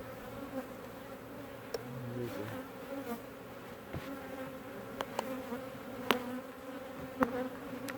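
Killer bees swarm in a large top bar hive, a dense continuous hum that holds steady for the whole stretch, with brief sharp knocks and clicks from the hive and lid standing out now and then.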